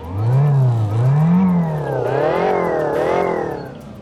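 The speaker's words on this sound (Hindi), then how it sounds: "अगर मैं आपको साउंड सुनवाऊं तो ये वाकई एक हैवी बाइक का साउंड देता है हमें।" A heavy motorbike engine revs loudly and close, its pitch rising and falling in several swelling throttle blips over a continuous strong idle growl.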